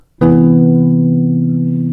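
One bass guitar chord with a third and major seventh is plucked once and rings on, a warm, full stack of notes that sustains steadily and slowly fades, alone and close.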